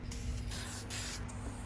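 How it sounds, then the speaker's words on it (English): Aerosol can sprays polyurethane gloss clear coat onto custom toy warrior figures, a close hissing spray in short bursts over a low steady hum. "I've been spraying them with a polyurethane gloss clear coat"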